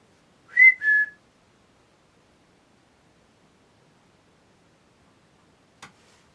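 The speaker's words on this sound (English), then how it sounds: "If I whistle, can you whistle back?" Two short whistled notes, the second gliding slightly lower, followed by a long silence and a faint brief click near the end.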